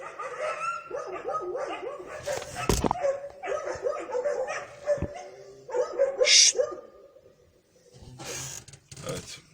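Several dogs bark and yip repeatedly at mid distance, some whimpering between barks, with a few sharp knocks and bursts of noise.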